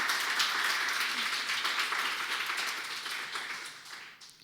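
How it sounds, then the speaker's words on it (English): Panel audience applauds a speaker at a discussion on EU border militarization and asylum politics, a steady wash of clapping from many hands that slowly fades over a few seconds, heard at moderate distance without talk. "Please, can we make a round of applause for Doris Dede?"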